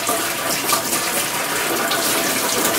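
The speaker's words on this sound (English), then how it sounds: "I'm going to rinse this brush out" Tap water runs steadily over a grooming brush as it is rinsed, a continuous close, even splashing hiss lasting the whole stretch with no voices.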